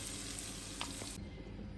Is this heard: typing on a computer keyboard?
no